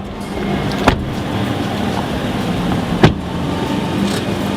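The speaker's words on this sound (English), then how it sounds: "We're gonna jump in this car and I'm gonna blow out of here." A car idles and rolls away at steady low volume, its engine hum constant, with two sharp clunks like doors or bumps partway through and no talking.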